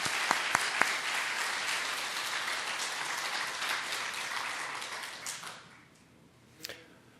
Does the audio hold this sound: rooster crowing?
no